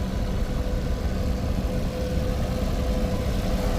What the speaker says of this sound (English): there's a little tractor here that's going.